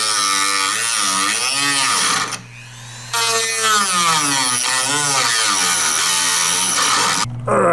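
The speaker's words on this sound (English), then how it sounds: "So now I'm gonna take a cutoff wheel and try to make a slot" A cutoff wheel grinds a slot into a stripped screw on a 1964 Corvette C2 front end, making a loud, close, high whine that rises and falls in pitch as it bites, with two short pauses.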